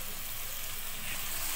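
Spices with a little water frying in a pan for a Bengali pabda fish curry, giving a steady, close hiss and sizzle that runs without a break.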